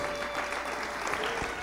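A church congregation applauds during a sermon, giving a short, even burst of dense clapping that sounds moderately distant and fills the room.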